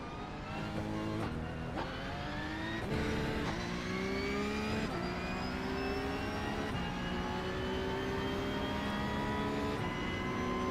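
A Porsche-style cup car engine in a Le Mans racing sim revs steadily, its whining pitch climbing through repeated gear shifts with brief drops between, loud and continuous with no talk.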